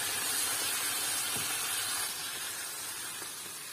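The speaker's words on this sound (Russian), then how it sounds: "Я жарю грибочки." Mushrooms frying in a pan after onions were browned first, giving a steady, moderately quiet sizzling hiss that softens slightly toward the end, with no talk.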